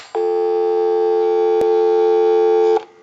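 A single-slot payphone plays a loud, steady busy signal: one clean continuous electronic tone lasting nearly three seconds with a brief click partway through, then cutting off abruptly.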